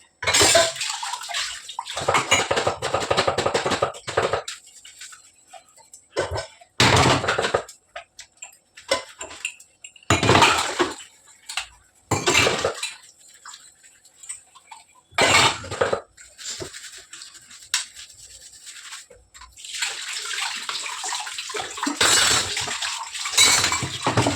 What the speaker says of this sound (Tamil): பாத்திரத்தை வாஷ் பண்ணிட்டேன்